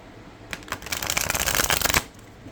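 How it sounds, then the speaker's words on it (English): Close, crisp riffle shuffle of tarot cards: stiff cards flutter in a rapid rattling burst that builds and stops abruptly, with nothing else around it. "One more time, because I like to shuffle at least a minimum of 3."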